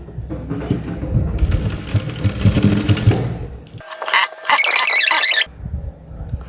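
A sewing machine stitching a baby cap, running in fast bursts of close mechanical clatter with brief pauses and a higher whirring stretch between.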